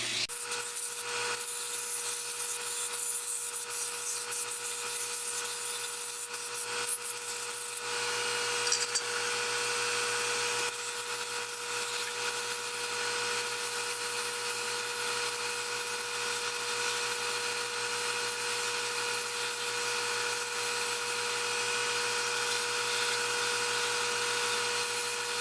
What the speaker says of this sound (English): then we're just back to sanding again.